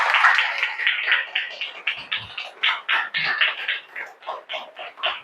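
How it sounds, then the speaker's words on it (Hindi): Married couples in an audience at a stress-free living wellness talk clap loudly for each other, a dense, sustained burst of many hands applauding close by that grows choppier toward the end. "सभी पति अपने पत्नियों की ताली बजाएं तेज आवाज में"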